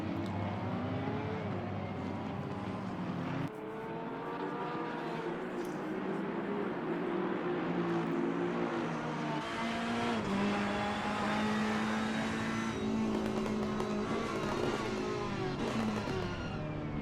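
Several race cars howl around the Spa circuit in a sim racing game, their engines loud and continuous with rising and falling pitch through gear changes as cars sweep past one another, with no talk.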